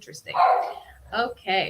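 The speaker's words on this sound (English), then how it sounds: "that's my dog in the background barking as always" A pet dog barks in the background, three short barks with pauses between them, and a voice talks over it.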